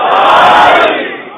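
Large crowd at a Muharram religious gathering shouting a slogan in unison, a loud, dense roar of many voices that swells and then fades over about a second and a half.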